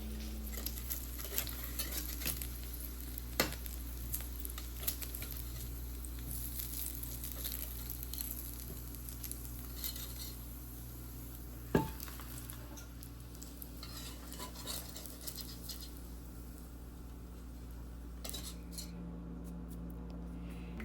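Applegate no-sugar uncured pork bacon frying in a pan: a steady, even sizzle with a low hum underneath, broken by an occasional utensil tap, and no talking.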